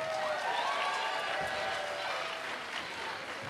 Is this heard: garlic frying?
no